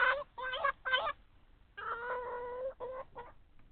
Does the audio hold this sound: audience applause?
no